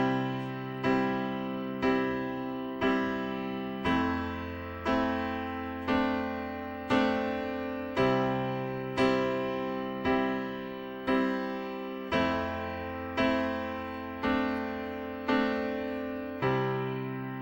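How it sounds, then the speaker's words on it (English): Piano playing a beginner chord progression, with evenly spaced sustained chords struck about once a second, each with a clear bass note and decaying ring, alone and moderately soft. "Now we're going to learn our first chord progression"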